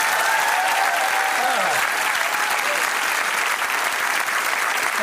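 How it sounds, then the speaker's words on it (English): A studio audience at a television comedy show bursts into loud, sustained applause, dense clapping and crowd noise throughout with no break. "Big round of applause."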